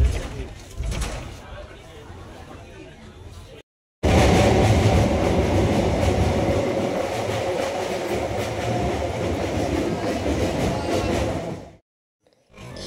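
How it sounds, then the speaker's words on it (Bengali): A moving passenger train leaving on time, a loud rumbling roar with rhythmic clatter from the carriages, preceded by quieter ambience and a brief gap, with voices at times in the background. "ঠিক সময় মতোই আমাদের ট্রেন ছেড়ে দিয়েছে।"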